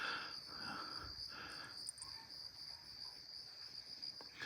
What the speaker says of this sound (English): let you guys hear the sounds of the crickets